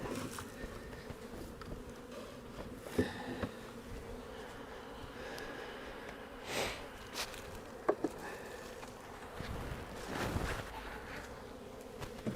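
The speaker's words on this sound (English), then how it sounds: "we got a lot of bees flying around wondering where their home went" Honey bees flying around an early-spring hive box, a steady close buzzing swarm with individual bees droning past the microphone now and then, fairly faint overall.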